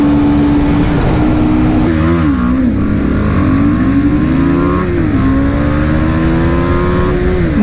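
A Royal Enfield Guerrilla 450 and a BMW G310R drag racing, their engines roaring loud and close, the pitch climbing and dropping through gear shifts in one continuous full-throttle run.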